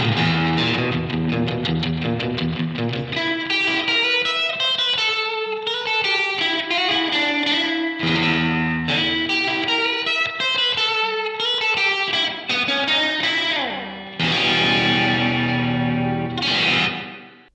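Electric guitar through a Helix preset with spring reverb set to imitate 1960s reverb, playing a Halloween-style melodic piece with shimmering, echoing, chorus-like tone that rings out steadily and alone, with brief gaps between phrases.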